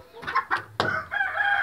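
Chickens clucking and a rooster calling nearby in a coop, a few sharp squawks followed by a sustained crowing note.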